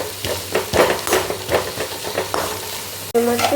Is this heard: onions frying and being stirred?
yes